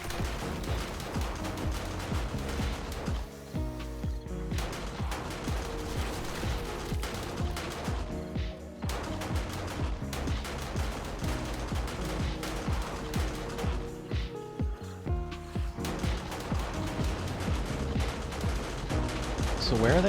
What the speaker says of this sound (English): Turrets are little snipers, aren't they?